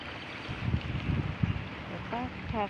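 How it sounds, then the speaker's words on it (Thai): Wind blows across the seaside at Hat Pharadonphap beach in Chumphon, making a steady, rumbling noise against the microphone. Someone talks over it, and his voice rises clearly toward the end. "เสียงลมอาจจะดังหน่อยนะ"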